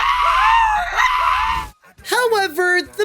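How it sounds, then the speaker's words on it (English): Cartoon characters from the animated film The Croods: A New Age scream loudly and shrilly, one long wailing scream followed after a brief pause by another burst of wavering, strained screaming. "some gags are literally just characters screaming"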